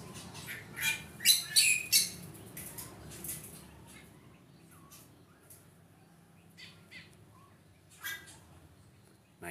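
Aviary birds squawk and chirp while queuing to be fed, a burst of loud, close calls in the first two seconds, then sparser faint chirps over quiet background.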